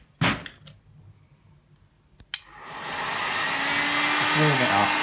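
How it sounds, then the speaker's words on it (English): A 200-watt heat gun warms thick old paint on woodwork: a couple of sharp knocks, then it switches on to a steady, close, airy blowing roar that continues to the end. "Get yourself a 200 watt heat gun, yeah?"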